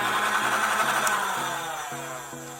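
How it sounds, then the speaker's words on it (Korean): Small electric motor whirring steadily inside a 28-shot electric Nerf toy gun after being switched on, a close, continuous buzzing hum with a few faint clicks and no talking. "ON을 하게 되면 모터가 돌게 되고요."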